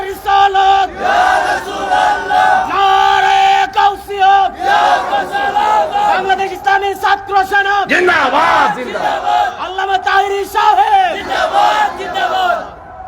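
A large crowd at a Bangla Islamic sermon gathering roars a unison religious chant in answer to a preacher's takbir call, loud, dense and sustained, with massed voices swelling and overlapping throughout.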